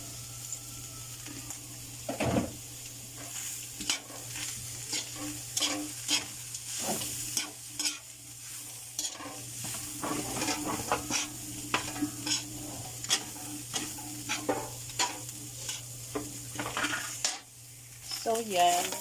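Palabok sauce stirred and frying in a pan: a steady sizzle runs throughout beneath repeated scraping strokes and occasional clinks of a utensil against the pan, close and fairly even, with no talk.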